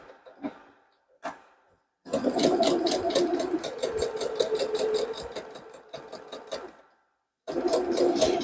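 Sewing machine stitching a scrappy fabric coin purse with embellishments: a few short taps, then sustained rapid mechanical whirring runs that pause and resume, loud and close with no talk over them.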